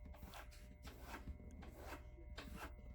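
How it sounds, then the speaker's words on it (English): Cabinet scraper drawn across hardened epoxy inside a Gibson J-55 acoustic guitar during a brace repair, a quiet rhythmic rasping in short repeated strokes, close and soft with no talking. "I'm going to use a cabinet scraper to scrape away the epoxy that is right where I want to put the other brace."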